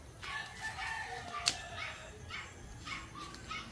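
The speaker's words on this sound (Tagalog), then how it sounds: "pagkinggan mo lang mga huni ng mga manok" Roosters crow in the distance in the rural countryside of the Philippines, several drawn-out calls over a quiet background, with a faint dog bark among them.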